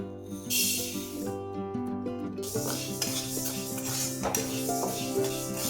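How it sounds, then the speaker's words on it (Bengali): Moong dal dry roasting in a pan while being stirred, a close dry rattling and scraping of grains against metal over a steady background hum with a faint sizzle. "এক বাটি মুগ ডাল নিয়েছি, সেটা আমি একটু শুকনো খোলায় ভেজে নেব"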